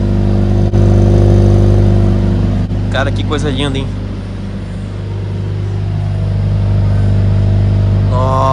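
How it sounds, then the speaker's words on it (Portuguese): Mercedes-Benz CLA 45 S AMG with a 2.0 engine running in Sport Plus mode, its exhaust droning loud and steady close by with a brief rev swell, while someone talks excitedly over it. "o escapamento desse carro, galera."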